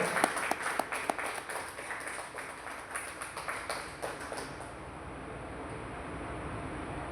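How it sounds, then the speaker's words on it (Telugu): An audience claps at an Ayurvedic medicine awareness meeting in Palvancha, a burst of many quick, uneven claps that keeps going for several seconds, then thins and fades into room hum. "క్లాప్స్ గట్టిగా కొట్టాలి"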